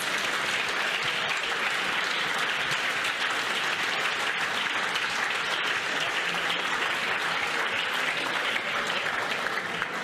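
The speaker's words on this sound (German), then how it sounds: "Give a good clap to that brother." A church congregation applauds a brother standing among them: dense, steady clapping from many hands fills the hall without a break for the whole stretch, evenly loud throughout.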